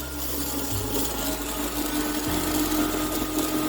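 A carving tool spins at high RPM, polishing fire agate with light pressure: a steady, loud whirring grind that holds constant throughout, with a low hum shifting slightly partway through.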